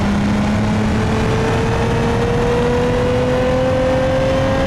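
A 3.5 liter V6 all-wheel-drive LS3500 coupe engine in BeamNG.drive revs and climbs steadily in pitch, a loud, continuous, close engine drone with no talk over it.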